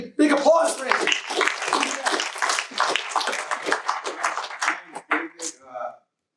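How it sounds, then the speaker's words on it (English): A Los Angeles Comic Con audience at an indie filmmakers' panel breaks into lively clapping mixed with cheers and voices, loud and dense from the start before tapering off and stopping abruptly near the end. "Big applause for him."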